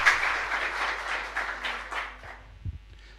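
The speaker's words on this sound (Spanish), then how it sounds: "Un aplauso para ustedes." Moderate applause from a congregation at a chapel service, a steady patter of clapping that thins out and fades over a few seconds.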